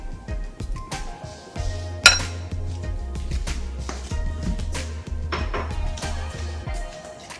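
Clinking and scraping of a utensil against a bowl while Korean lettuce salad is tossed with sesame oil, with irregular close taps and knocks at a steady pace and a low hum beneath.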